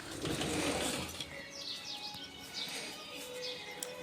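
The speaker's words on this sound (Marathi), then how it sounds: "हा जो आवाज आहे चिमण्यांचा तो खरंच खूप छान आहे" Sparrows chirp in quick, bright bursts against a quiet morning outdoor background, faint and a little distant, with no one talking.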